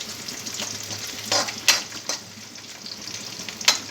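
Chopped onion frying in a pan for potato curry, a steady soft sizzle broken by several louder scraping stirs.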